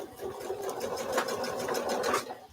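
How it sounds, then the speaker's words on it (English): A sewing machine stitches quilt fabric at an angle, a steady mechanical whir with a quick rhythmic needle patter, close and moderately loud with no talking. "I sew it at that angle."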